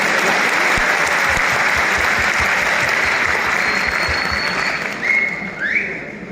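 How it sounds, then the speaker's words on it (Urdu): An audience claps loudly and steadily at a poetry recitation event, continuous dense applause that thins slightly toward the end as a few whistles rise over it. "بجائیے زور سے تالی بجائیے."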